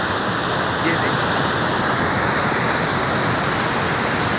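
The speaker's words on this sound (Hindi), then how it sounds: "कितना बेहतरीन थले मारता हुआ पानी" Snowmelt river water rushes hard through the Head Marala headworks, a loud, steady, close-up roar of churning water that never lets up.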